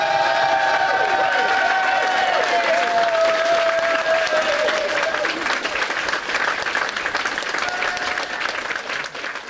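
Applause from a tournament audience fills the space, a dense steady wash of many hands clapping throughout, with faint cheering and a voice drifting underneath at the Bugglebots robot-combat grand final.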